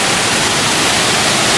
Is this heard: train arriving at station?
no